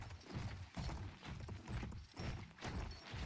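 Galloping horse hooves in the video game Battlefield 1 pound in a steady, repeating rhythm, loud and close, with no voices.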